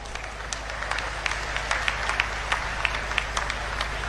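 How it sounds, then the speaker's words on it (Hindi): Crowd applause at an outdoor Bhagwant Mann political rally in Dadri, a dense steady wash of clapping with scattered sharper claps over a low rumbling background, no clear talk. "एक बार जोरदार तालियां इनके लिए भी मार दीजिए"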